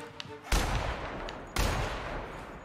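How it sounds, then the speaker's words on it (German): Gunfire in the video game The Outer Worlds sounds as two loud, sharp shots about a second apart, each with a booming tail that rings out, under faint background game sounds. "Der Schuss war für deinen Kopf bestimmt."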